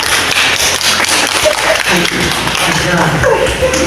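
First-grade children clap together in a classroom, a loud, busy patter of small hands mixed with chatter and voices close by.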